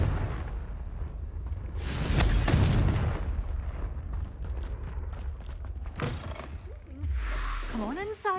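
A Confringo fire spell explodes in Hogwarts Legacy, a loud booming burst that roars for about a second before a rumbling game ambience with voices and a few whooshing magical swirls near the end.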